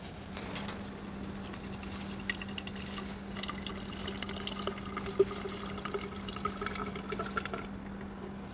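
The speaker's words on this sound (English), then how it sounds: "Next, pour in fresh milk, yogurt, and honey." Milk, yogurt and honey are poured in for date juice: a soft, continuous liquid stream and patter, quiet and close, running steadily for several seconds before stopping, over a low steady hum.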